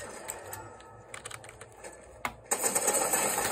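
Clicks of a computer keyboard during gaming, scattered light taps that become a louder, faster run of keystrokes toward the end.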